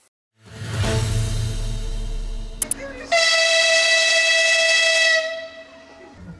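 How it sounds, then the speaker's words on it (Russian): The new Makhachkala-Derbent electric train departs with a loud, sustained two-tone horn blast. A low rumble of the moving train sits underneath, and the horn cuts off after a few seconds. "Так стартовал новый электропоезд «Махачкала-Дербент»."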